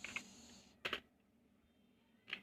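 Close, quiet keystrokes on a computer keyboard while code is typed, in three short clusters of clicks separated by pauses, with no voices.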